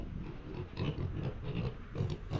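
A pig grunts repeatedly at close range in low, rough, uneven bursts over a farmyard background.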